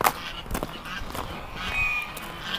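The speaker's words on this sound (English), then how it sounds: "Oh, the geese are playing in the water too." Geese splash and play in water at a farm, giving faint scattered honks against a soft background of outdoor noise.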